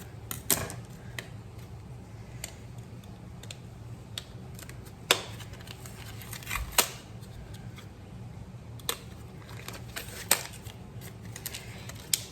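Small plastic clicks and taps while a memory card goes into a Canon G7 X Mark II camera, scattered irregularly over a quiet background with a few sharper snaps standing out.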